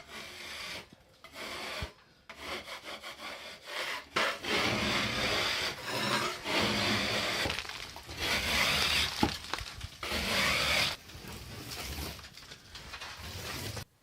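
Scraping a wet, never-painted bathroom ceiling surface, a continuous rough rasping with short pauses between strokes, close and steady throughout.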